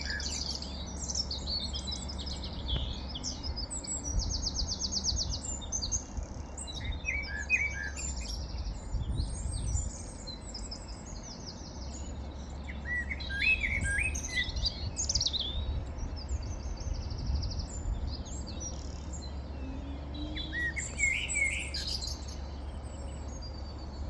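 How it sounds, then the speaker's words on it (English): Birds chirp and sing steadily at an allotment garden in April, with bright overlapping tweets and trills from several birds at moderate distance over a low rumble of background noise. "have a little chill out, listen to the birds"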